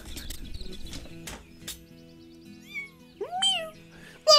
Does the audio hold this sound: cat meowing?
yes